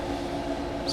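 ICE high-speed train in Train Sim World 4 on the Main Spessart Bahn, a brief close rumble of rolling wheels with a steady tonal hum and a short high squeal at the end.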